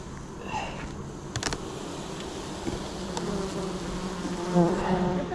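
Honey bees buzz steadily throughout at an opened, agitated hive during an inspection, a dense close swarm drone with a brief louder burst near the end and no talk.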